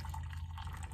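Hot coffee pouring from a hot camp percolator coffee maker into a cup outdoors, a short steady liquid stream with faint trickling and dripping, close and continuous with no talk.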